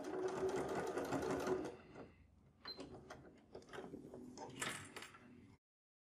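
A sewing machine stitching a fabric bag of tricoline and nylon, a busy close whir that slows into a short backstitch burst and a few clicks before stopping.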